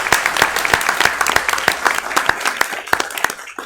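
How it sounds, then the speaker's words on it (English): Audience applause at a Mississippi Board of Education meeting, a brisk burst of many hands clapping close by, steady throughout with no talk over it. "how about a round of applause for Deborah?"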